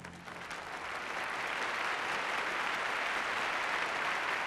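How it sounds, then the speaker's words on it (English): Archival recording of prolonged applause for Stalin from a Soviet assembly, a dense, uniform roar of many hands clapping that swells slightly and holds steady, somewhat distant and faint. "no one dared to be the first to stop clapping for Stalin"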